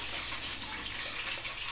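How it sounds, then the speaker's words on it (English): Cold tap water runs steadily into a bowl of freshly churned butter made from sheep milk, a continuous close hiss of flowing water with no voices. "You're going to run cold water over the milk,"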